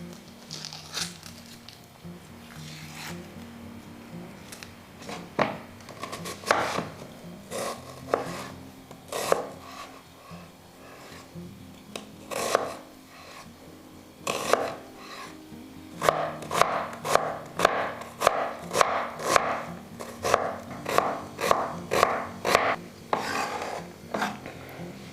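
A knife chops an onion on a board, with scattered cuts at first and then a run of quick, rhythmic close chops. Faint background noise sits under the cutting.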